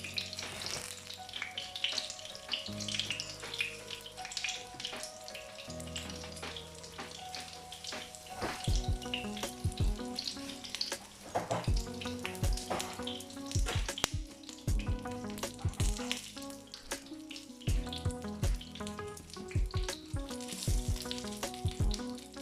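Mini courgette flower fritters cook in an air fryer and give off a steady sizzle over a low hum. Clinks and clatter repeat as the fritters are turned, with no one speaking.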